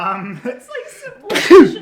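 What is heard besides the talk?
sneeze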